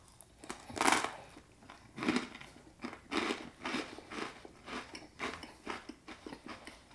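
Loud, close crunching bites into thick rosemary toast followed by a steady rhythm of crisp chewing, each chew crackling sharply, with no talking.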